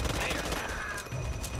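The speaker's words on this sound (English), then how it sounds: "I'm shooting the second one." Rapid gunfire in the zombie shooter Back 4 Blood, a dense burst of shots running throughout at moderate loudness, with game noise layered over it.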